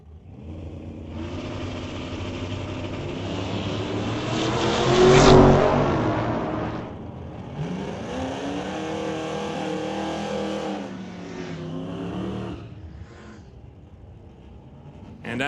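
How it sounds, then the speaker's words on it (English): Drag race between a 1966 Chevrolet and a 5-liter Ford Mustang: loud engine roar swells to a close peak as the cars pass, then a second wave of revving engine noise rises and falls away. "against Steve Baskerville with that 5-liter Mustang down in the 1254"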